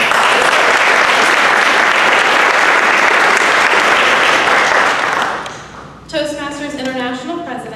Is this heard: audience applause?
yes